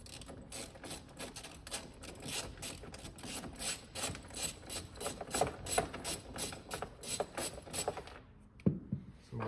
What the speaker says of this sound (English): we're gonna need the socket and the ratchet on 10. So we're gonna unscrew this bolt.